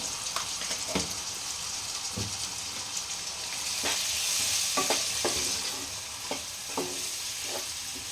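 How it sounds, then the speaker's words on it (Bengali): Chopped tomato and salt sizzle steadily in a hot pan while cooking egg dal tadka, a continuous close frying hiss broken by scattered clicks of a spoon stirring. "এরপর আমি টমেটোটা দিয়ে দিচ্ছি, কারণ এটাতে জল ছাড়ে তো, ওই জন্য এটা লাস্টের সময় দিতে হবে।"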